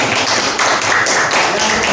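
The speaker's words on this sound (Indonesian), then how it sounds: "Tepuk tangan." Classroom clapping as pupils applaud a group's answer during a Grade 4 Islamic jurisprudence lesson, a steady run of claps filling the room for about two seconds.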